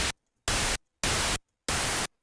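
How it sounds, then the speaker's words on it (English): Synthesizer white noise layer used in building a custom 808 patch, three loud bursts of flat hiss each about a third of a second long, separated by silent gaps. "you have different kinds of white noise."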